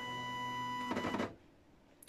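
A home dot matrix printer prints a sheet, a steady whining buzz of the print head that cuts off partway through, leaving a quiet room with a faint click at the end.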